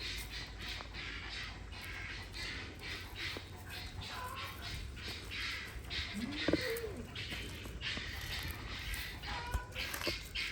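Guinea fowl call outdoors, a rhythmic series of harsh repeated cries at moderate distance over steady ambient noise, with brief speech in the background.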